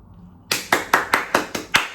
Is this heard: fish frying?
no